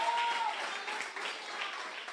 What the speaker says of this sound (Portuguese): Aplauda o Senhor mesmo por esta palavra.